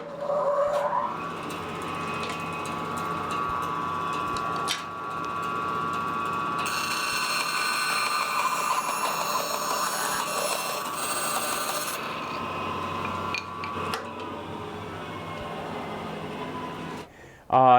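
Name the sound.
Rikon bandsaw cutting through a pine stick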